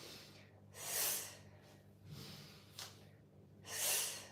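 A long hissing 'sshh' breathed out on each exhale during a qigong lung healing exercise, repeated three times with quiet breathing between, soft and close.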